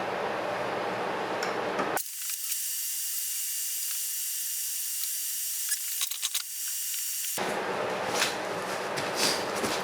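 A ratchet tightens the bottom plug on the reduction gearbox of a Kubota BX front-mount snowblower. It is close and heard alone, with a hissing, clicking stretch framed by louder broadband noise before and after.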